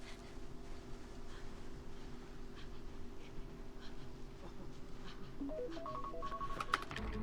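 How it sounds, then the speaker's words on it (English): A medication alarm in the video game Project Zomboid sounds as a short rising series of faint electronic beeps near the end, over a steady low hum. "Alright, that's the alarm for meds."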